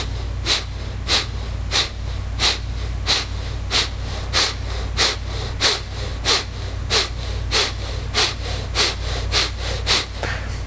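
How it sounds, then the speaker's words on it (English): Forceful nasal exhales from a breathwork exercise repeat at a steady, brisk rhythm of about two per second, loud and close, each a sharp puff over a low background hum. "as I exhale, I'm going to push the exhale out, my belly will go in, and I'm going to let the inhale happen on its own."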